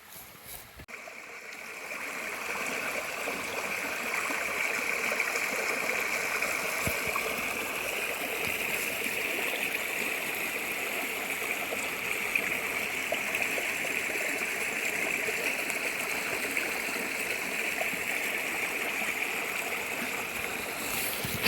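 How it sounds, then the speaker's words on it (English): Water flows steadily in a stream, partly running up from underground, producing a continuous close rushing wash that holds at an even level throughout. "The water is also running from underground a little bit and around."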